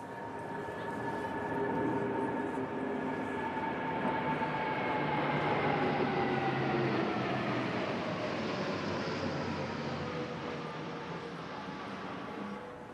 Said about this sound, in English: the second wave of transport aircraft, the Voyager, a modified civilian Airbus A330-200 passenger aircraft, and an A400M Atlas